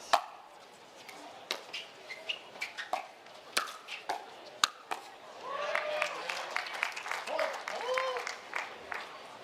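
Sharp paddle pops and ball taps during a championship men's doubles pickleball match, followed by a swelling crowd murmur of oohs and applause, with voices throughout.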